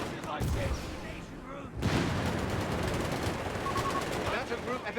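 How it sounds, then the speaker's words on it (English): Rapid gunfire from an aircraft strafing run in the real-time strategy game Company of Heroes 3, a dense continuous rattle of shots and blasts filling the whole stretch under a voice commenting on the match. "Gonna use wing again once the strafing is done there."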